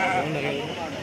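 A sheep at the Friday sheep and goat market in Talupula gives a short, close, wavering bleat, with voices of the market crowd around it.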